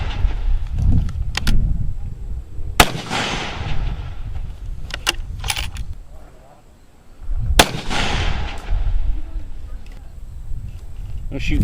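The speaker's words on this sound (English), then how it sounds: "We're just going to shoot a 3-shot group and not adjust it in between." Shots from a factory hunting rifle with factory ammunition on a 1000-yard range, two sharp loud reports several seconds apart, each with a rumbling tail, over constant outdoor background noise and some handling sounds.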